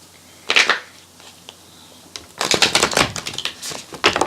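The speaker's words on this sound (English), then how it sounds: "I'm going to go ahead and I'm going to shuffle the deck" A deck of oracle cards is shuffled up close: a short riffle, a pause, then a longer run of rapid crisp flutters and snaps.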